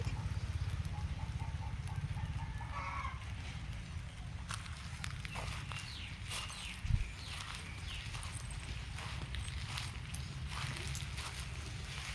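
Steady rain falling outdoors, a dense continuous hiss and patter with a faint low rumble throughout, one brief thump midway, no voices.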